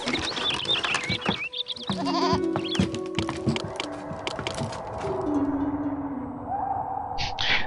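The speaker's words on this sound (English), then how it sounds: "Let's build some more goats here." Goats bleat repeatedly in the city-building game Master of Olympus Zeus, several overlapping wavering cries over a busy layer of in-game ambience and music.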